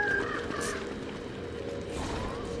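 A tall bird creature in the video game Don't Starve lets out a harsh, crow-like squawk near the start, then a second rising cry about two seconds in, both over a steady bed of game ambience and music.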